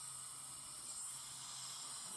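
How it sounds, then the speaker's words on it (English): A steady, quiet hiss of air freshener spray fills the whole stretch in the video game Five Nights at Spy's Night 3, continuous and unbroken with a faint constant hum beneath it and no talk. "Alright, good, I'm spraying him."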